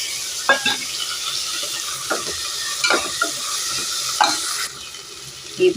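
Mint and chopped tomatoes sauté in a pan for chicken biryani, with a constant sizzle punctuated by repeated close scrapes and knocks of a spoon stirring against the metal.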